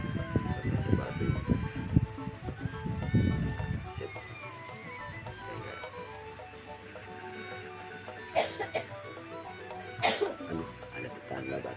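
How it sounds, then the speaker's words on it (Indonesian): A neighbour coughs off to one side, two short sharp bursts a couple of seconds apart, while paper flowers are being made indoors. Talking and handling sounds come before the coughs. "Ada tetangga batuk."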